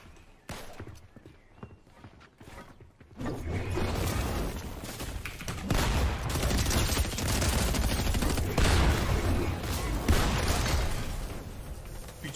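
Rapid bursts of video game gunfire crackle loudly and continuously, dense popping shots filling most of the stretch after a brief quieter start.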